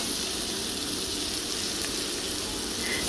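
Turmeric and chilli powder frying in oil in a pan for a Bengali banana-flower curry, giving a steady close sizzle and hiss throughout with no talk.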